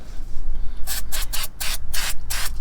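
Brake cleaner sprayed onto brake parts during a pre-MOT brake job on a Mazda Bongo, heard as a series of about six loud, close hissing bursts of varying length with short gaps, no voices.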